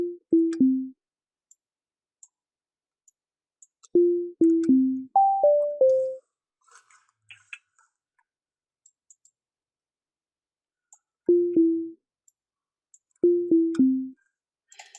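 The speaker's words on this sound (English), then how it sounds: "So if I wanted to make like a little xylophone type thing," A xylophone-like synth pluck made with Sytrus in FL Studio plays short bright mallet notes in quick descending groups of three or four, separated by silences and faint clicks.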